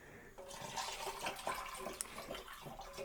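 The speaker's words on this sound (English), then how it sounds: "The fact that it's gurgling like that, incorporating some oxygen into the mix," Ginger wine mixture gurgling and splashing as it is poured or stirred, a continuous bubbly liquid wash with small irregular splashes, close and moderately loud, no talking.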